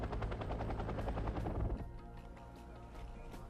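Military helicopters fly in the war game Wargame Red Dragon, with loud, rhythmic rotor thumping for a couple of seconds before the chopping drops to a quieter, fainter whir.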